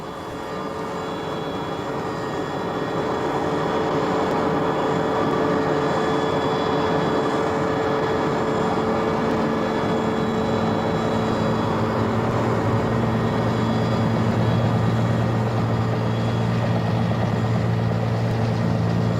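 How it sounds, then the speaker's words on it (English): Steady heavy thrum of a fleet of military helicopter rotors and engines, loud and continuous throughout, with a low droning hum underneath and no talking. "a fleet of helicopters is employed, bringing in fresh troops, provisions and water"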